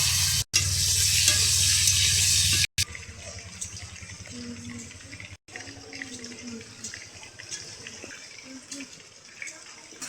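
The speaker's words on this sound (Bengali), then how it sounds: "মাছ ভালো করে ভেজে নিচ্ছি, মাথাও কিন্তু ভালো করে ভেজে নেওয়া হয়ে গেছে বন্ধুরা, উঠিয়ে নেব। আলু করা লাল লাল করে ভেজে নেব" Rohu fish and potato pieces fry in oil with a loud, dense sizzle for the first few seconds, then a quieter, steady crackle continues with scattered soft pops.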